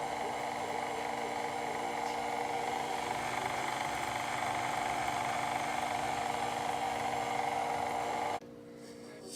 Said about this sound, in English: then mix at your lowest setting possible so it doesn't fly everywhere